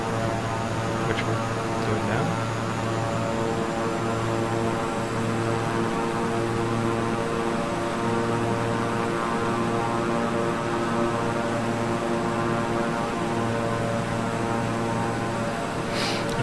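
Twin turboprop engines of a Beechcraft 350i King Air in Microsoft Flight Simulator drone steadily throughout, a loud constant hum and airy roar with a faint pulsing low tone and no change in power.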